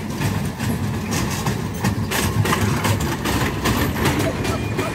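A Go-Gator ride's engine rumbles and idles continuously with a low, heavy drone and rattling clatter, loud and close, with voices heard over it.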